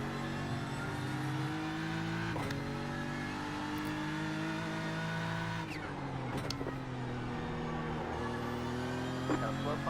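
A race car engine drones loudly and steadily around the Nurburgring, its pitch dipping and climbing through gear changes, close in-car perspective with a voice faintly beneath.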